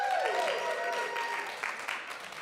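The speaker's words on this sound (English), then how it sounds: "Thanks to those of you who clapped twice." Audience applause at a live talk: a brief, soft patter of clapping from a modest crowd, fading out within a couple of seconds.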